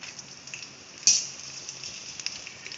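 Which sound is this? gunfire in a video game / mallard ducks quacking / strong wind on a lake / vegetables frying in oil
vegetables frying in oil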